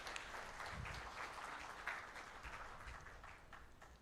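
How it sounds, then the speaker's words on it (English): Applause from a stakeholder workshop audience for Madame Speciosa, a soft, steady patter of many hands sustained throughout at a low, somewhat distant level. "A bigger round of applause for Madame Speciosa."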